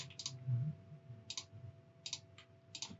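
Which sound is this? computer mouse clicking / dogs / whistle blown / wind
computer mouse clicking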